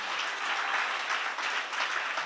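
A church congregation claps during a sermon, a brief burst of steady crowd applause.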